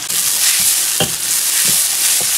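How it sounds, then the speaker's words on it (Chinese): Scallion, ginger and garlic stir-fry in hot oil before crayfish tails go in, a steady loud sizzle broken by a few scraping stirs of the spatula. "炒差不多了，下入葱姜蒜"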